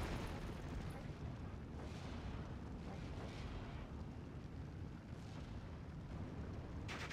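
Off-map 210 artillery strike explosions in the wartime strategy game Steel Division, heard as dense, continuous rumbling booms with repeated heavy impacts merging into a thick roar across the whole stretch, with no talking.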